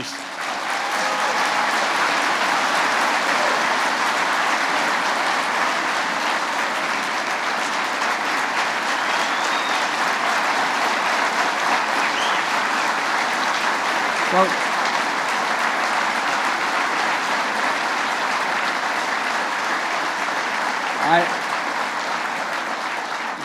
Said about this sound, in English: I should be clapping for you